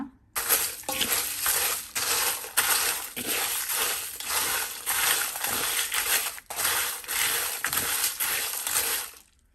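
Roasted spices and asafoetida for bisi bele bath powder are stirred in a pan, giving a close, continuous dry rattling and scraping with rhythmic strokes and a few brief pauses.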